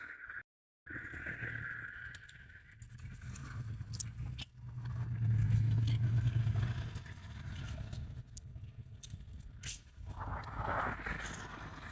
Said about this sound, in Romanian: se aude cum merg mașinile pe, nu știu dacă vedeți, pe carosabil